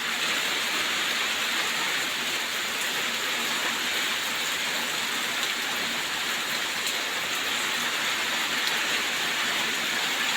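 Heavy rain pours steadily outside a village home in Kerala, a dense continuous hiss of drops on surfaces that holds at an even, fairly loud level throughout with no voices.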